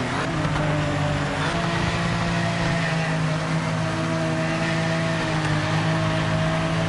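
Porsche 964 Cup race cars racing at Mosport, a steady loud engine drone with sustained tonal bands held throughout, no voices.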